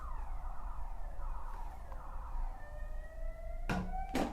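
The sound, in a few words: siren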